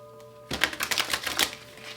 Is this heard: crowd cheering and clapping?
no